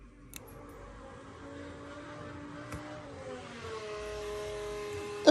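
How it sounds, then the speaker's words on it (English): Fuel pump of a Land Rover Discovery TD5, powered up for a test during chassis replacement, hums steadily with a faint whine that builds slightly over several seconds, heard alone with a few small clicks. "The fuel pump's going."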